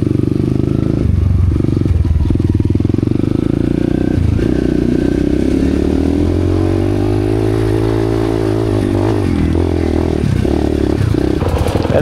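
A motorcycle engine revs loud and close, its rumble climbing and falling in steady surges with some clatter, and no voices over it.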